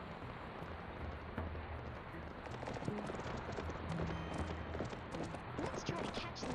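Horse hooves gallop in the Barbie Horse Adventures video game, a quick, continuous clip-clop rhythm at moderate loudness, with a voice talking over it.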